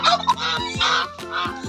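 Backyard geese give a quick series of loud, nasal honks, several calls overlapping close by over a couple of seconds.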